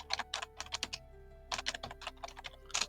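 Fingers type a search on a computer keyboard in quick, close bursts of key clicks, pausing briefly midway before a second flurry of tapping.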